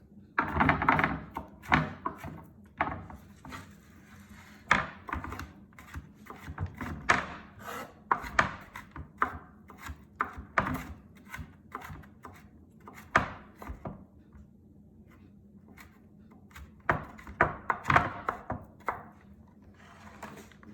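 A knife chops mushrooms, shallots and parsley finely on a wooden cutting board, quick bursts of dull knocks with short pauses between, close and fairly loud.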